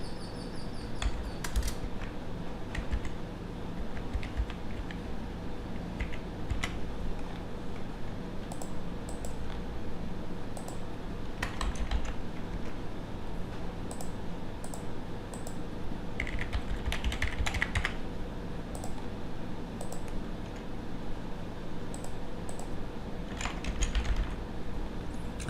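Steady typing on a computer keyboard to fill in a student registration form: continuous light clicking keystrokes with short pauses and bursts, close and clear, with no talking.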